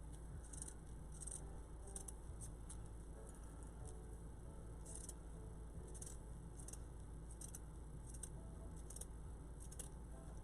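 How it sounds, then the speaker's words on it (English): Pinking scissors snip through fabric while the corners of an Easter bunny are rounded, giving a series of quiet, crisp metallic clicks in irregular bursts over a faint steady hum. "And then with the pinking scissors, which if you don't know what pinking scissors are, this is pinking scissors. We round the corners."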